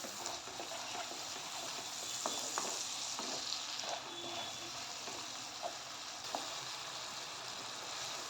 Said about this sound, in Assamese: আৰু এইখিনি ভালদৰে এতিয়া ভাজি ল'ম।